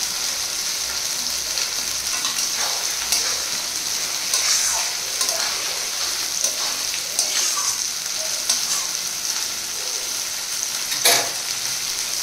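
Tomatoes, green chilies and garlic fry in a pan with a steady close crackling sizzle throughout, broken by a few sharper spatters and stirring scrapes, with no voices.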